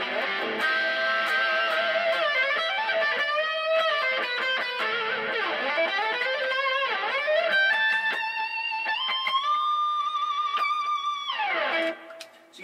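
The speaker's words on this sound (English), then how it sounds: "Add a little delay with that." Clean electric guitar through an X-40 amp plays a melodic line with a clear delay effect, echoed repeats trailing each note and sustained chords, ending with a brief fade.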